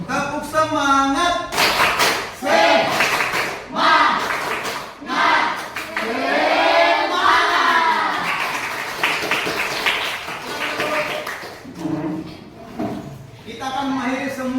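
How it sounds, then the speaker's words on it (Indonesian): A standing class performs a rhythmic spirit clap, tepuk semangat, in sharp patterned bursts of group clapping separated by pauses, with a teacher's and students' voices chanting and talking between and over the claps. "Kita tepuk semangat."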